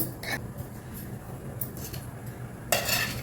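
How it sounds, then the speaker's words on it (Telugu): A metal pan for gunta ponganalu is set down on a kitchen stove, giving a few short clanks and scrapes with a sharper metallic clatter near the end, heard over low background noise. "ఇప్పుడు స్టవ్ ఇచ్చి గుంత పొంగడాలు వేసుకునే ప్యాన్ ఉంటుంది కదా అది పెట్టేసుకోండి"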